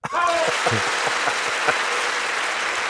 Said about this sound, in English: I'll give you a round of applause for that